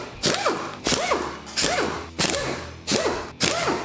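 A ratchet fitted with a 12mm socket works the cover bolts on a Suzuki Samurai transfer case, giving six evenly spaced, loud clicking strokes with a creaky rise and fall, close up and with no talking.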